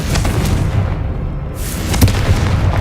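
A Confringo spell explodes in the video game Hogwarts Legacy, a loud booming blast with rumbling low-end and sharp bursts layered over ongoing game ambience.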